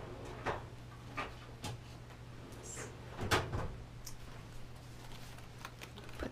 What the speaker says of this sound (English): Oh, maybe in a drawer over here.